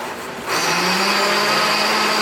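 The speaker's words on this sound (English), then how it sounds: "the easiest way to clean your blender" A blender starts up and runs to clean itself, a loud, steady close whirring motor with a constant pitch after a brief quiet moment.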